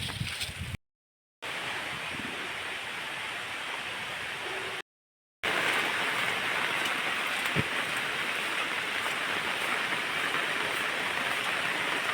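Steady rain with wind hisses continuously with a broad rushing wash, fairly loud and unbroken apart from two brief silent gaps; no voices.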